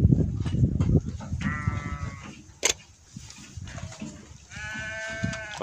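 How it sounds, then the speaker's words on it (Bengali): Several goats bleat on a commercial goat farm, loud and close, with overlapping calls in bursts against a busy farmyard background. "কত বড় বড় ছাগল।"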